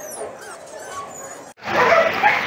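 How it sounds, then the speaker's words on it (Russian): Small puppies whimper and yip at close range in a shelter under a roof during heavy rain, with soft whines first and then a noisier, denser stretch of yelps after a brief pause. "Это собаки."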